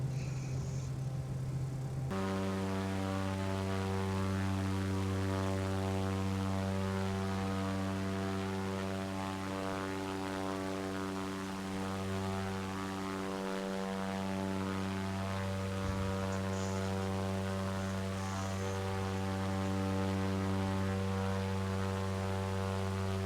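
A light propeller aircraft engine drones at full throttle during a flight near Telluride mountains, a loud, steady, close cabin hum with strong harmonic tones that holds unbroken, with no talking.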